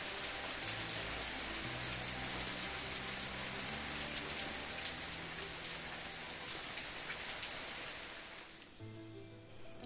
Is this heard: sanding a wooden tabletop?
no